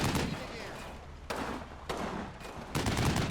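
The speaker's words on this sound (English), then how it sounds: "And they get some pretty good shots off on that half-track." Machine gun fire in Combat Mission: Battle for Normandy, a heavy machine gun team firing as booming, distant-sounding bursts that swell and fade several times over a rumbling battlefield.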